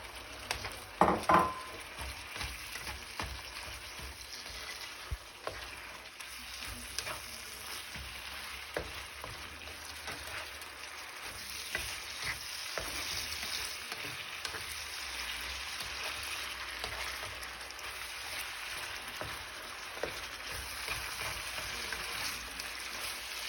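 Sauce goes into a pan of sizzling beef salpicao, a loud splash at first and then a continuous hissing fry, with light stirring clicks throughout.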